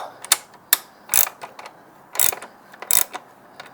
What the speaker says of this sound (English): I use a 14mm socket with a 3-inch extension on one side and a deep 14mm socket for the other